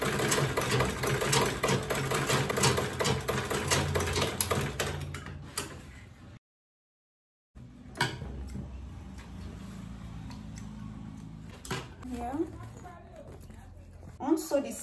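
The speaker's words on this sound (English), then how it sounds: "I'm going to sew at half an inch." Sewing machine stitching fabric bag panels at a half-inch seam, a steady rapid close mechanical chatter that stops briefly, then resumes more sparsely with handling noises while a person talks.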